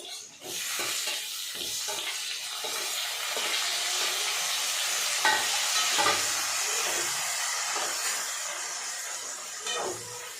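Onions frying in a pan for egg kurma sizzle steadily, close up, with repeated scraping stirs cutting through the hiss; no voices.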